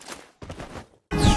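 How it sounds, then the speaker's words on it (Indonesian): Bursts of gunfire in a competitive shooting game match on the Mill map, two short clusters of shots separated by brief gaps, then a loud, dense burst at the end. "tembakan sudah dikeluarkan dari seorang Juan."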